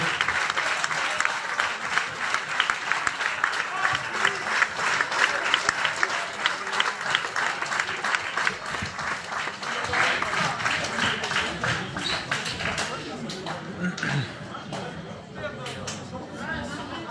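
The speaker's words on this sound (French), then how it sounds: "On peut les applaudir pour les encourager." An audience at a club label award evening applauds and cheers on the football coaches, a dense, steady wash of clapping from a large crowd that holds for the whole stretch, with some voices mixed in.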